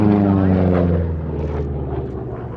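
A vintage propeller fighter aeroplane roars past at the RAF Cosford Air Show, a loud, droning engine note that slowly fades as it passes, with a commentator talking over it.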